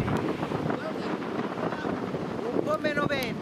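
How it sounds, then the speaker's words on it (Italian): Strong wind buffets the microphone with a steady, loud rumbling roar while kitesurfing, and voices talk over it throughout. "Un po' meno vento, perché mo forse ce n'è anche troppo."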